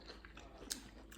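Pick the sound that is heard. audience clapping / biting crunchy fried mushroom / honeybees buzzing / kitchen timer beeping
biting crunchy fried mushroom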